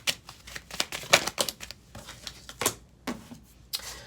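Tarot cards being shuffled by hand in a series of quick papery riffles and slaps, close and fairly quiet, with irregular bursts and no talking.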